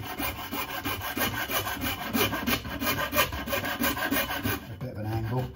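Wood rasp filing the painted wooden edge of a vintage AV6, using the small edge of the tool, in a close, loud continuous rhythmic scraping with rapid back-and-forth strokes.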